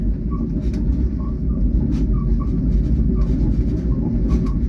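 A first class sleeper train running from Chiang Mai to Bangkok, a loud, steady low rumble of the carriage rolling along with faint higher rattles, no talk.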